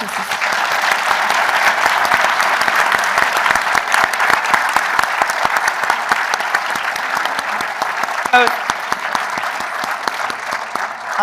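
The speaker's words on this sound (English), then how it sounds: "Can we all give everyone a round of applause?" An audience at a panel discussion gives a sustained round of applause: dense, even clapping from many hands that holds steady for about eleven seconds.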